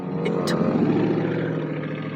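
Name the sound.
muscle car engine passing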